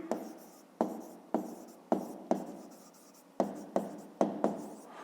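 A pen writes out a fifth-grade maths exercise in a series of about nine firm, scratchy strokes, each starting sharply and trailing off, close and quiet, with no voices.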